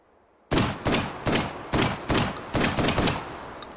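A 12-gauge semi-automatic shotgun with an internal magazine fires about eight loud, close shots in a quick, slightly uneven rhythm, each blast trailing a short echo, with silence before the first.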